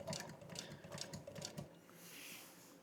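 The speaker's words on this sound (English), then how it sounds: "I'm going to change it on my sewing machine to about a number 5, because on this first stitch I want it to be nice and tight" A sewing machine set to a tight stitch sews a vinyl car top in an upholstery shop, running in a quick, even rhythm of stitches before stopping and leaving quiet room noise.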